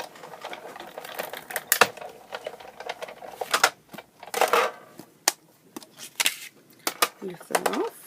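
A die-cutting machine pressing a 2-inch paper circle from scrap paper, giving a close series of clicks, cranks and taps with a short squeak near the end. No voice is heard.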